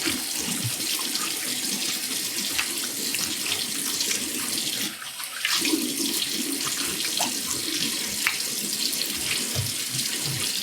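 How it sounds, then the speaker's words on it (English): Tap water runs steadily into a sink as alum is rinsed off after a safety razor shave, a continuous close splashing rush with one brief dip midway. "I think I can rinse off the alum now"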